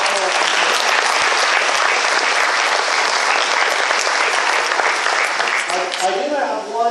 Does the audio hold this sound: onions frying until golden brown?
no